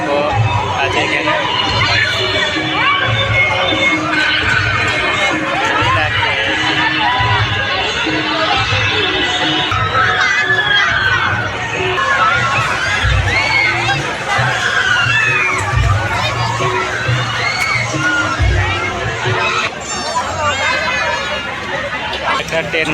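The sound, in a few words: crowd at a village fair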